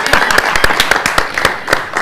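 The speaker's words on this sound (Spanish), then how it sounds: "Aplauso final." Vigorous final applause from an audience, a dense wash of loud clapping that carries on without pause.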